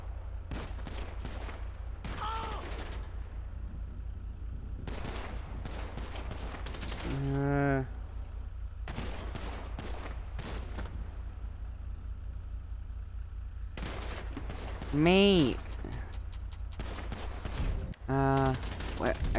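Rapid gunfire from the GTA 5 video game crackles in dense bursts through most of the stretch, with louder tonal shots or sirens standing out near the middle and end, and talk mixed in.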